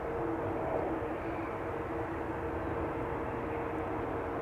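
A Lufthansa Boeing 747 at Amsterdam Schiphol Airport, heard as a steady, broad jet engine roar at moderate distance over several seconds, with no voices.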